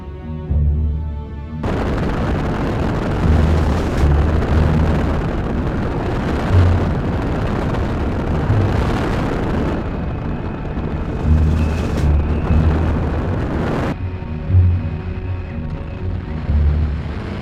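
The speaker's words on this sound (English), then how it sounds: "The bombs fall in the vicinity of the western defenses" Repeated booming simulated bomb explosions from an airsoft airstrike, with low thuds, come at intervals over a continuous rumbling wash, fairly loud and sustained.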